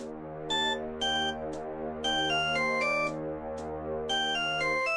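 A phone ringtone plays alone in short repeated melodic bursts with brief gaps, steady and fairly loud, over a constant low hum.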